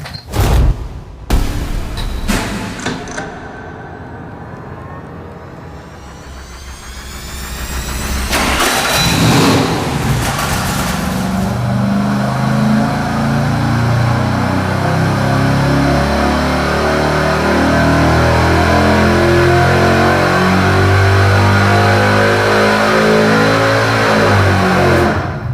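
An engine fitted with Hooker Super Comp headers and Hooker mufflers cranks and fires on a dyno, then revs and settles into a loud, sustained roar at close range.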